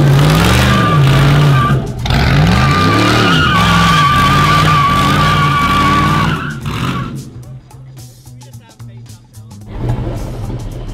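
A vehicle revs hard and its tires skid and whine on ice, the engine note rising and falling in loud waves before dropping away to quieter rumbling, with a voice speaking briefly over it.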